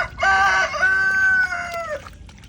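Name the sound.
rooster crowing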